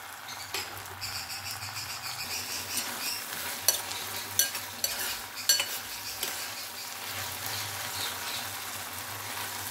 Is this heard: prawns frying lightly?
yes